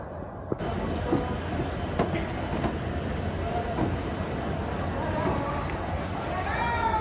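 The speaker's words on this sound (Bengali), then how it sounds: "নির্ধারিত সময় থেকে প্রায় এক ঘন্টা পাঁচ মিনিট দেরিতে আমাদের ট্রেন হাওড়া স্টেশন ছেড়ে বেরিয়ে যাচ্ছে" A passenger train pulls out of Howrah station, a steady loud rumble of rolling carriages with rhythmic clicks from the rails and a few faint squeals, recorded from inside the train.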